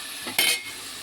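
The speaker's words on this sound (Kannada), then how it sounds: "ಹಾಕಿ ಮಿಕ್ಸ್ ಮಾಡಿ." Pepper chicken with tomato and curry leaves being mixed in a pan, a single brief scrape and sizzle burst up close, then a low hiss.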